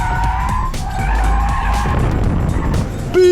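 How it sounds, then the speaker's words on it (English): A BMW E46 spins donuts on the Thunderhill skid pad, its tires skidding and squealing over a loud, rising and falling engine drone, close by and continuous. "About to go do some donuts to start with."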